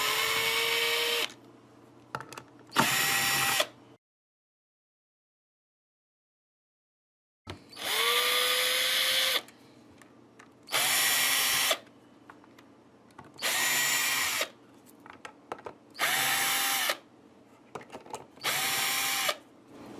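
A power drill backs out the pickguard screws on a cheap Telecaster-style guitar, loud and close, in a string of short whirring bursts with a few seconds of silence partway through.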